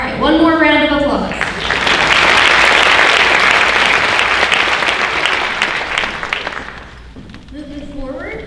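Audience applause at a high school honors night, a loud sustained burst of clapping that swells and then tapers off, with voices speaking briefly before and after it.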